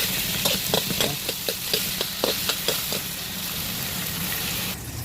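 Meatballs fry in a pan for pancit canton with a steady broadband sizzle, broken by a run of soft clicks and pops from the meat shifting in the oil, and no voices over it.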